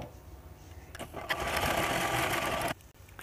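A sewing machine stitches a seam in a silk blouse, starting up after a few soft handling noises, running steadily and close for about a second and a half, then stopping abruptly.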